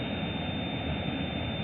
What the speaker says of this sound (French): La turbine souffle bien.